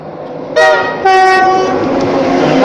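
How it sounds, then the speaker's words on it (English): A London King's Cross to Edinburgh express sounds two loud horn blasts as it passes through Durham, then rolls close by with a sustained rumble and wheel clatter. "Next train to pass Newcastle Durham is"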